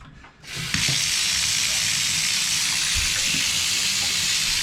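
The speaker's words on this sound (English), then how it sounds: "So we're filling up that tub." A faucet pours into a bathtub, starting with a brief knock and then settling into a loud, steady, hissing gush of running water that continues without a break.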